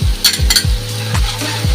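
Chopped tomato frying with onion, ginger-garlic paste, salt and turmeric in a pan, stirred with a utensil that scrapes and knocks in a steady rhythm of about five strokes over a soft background sizzle.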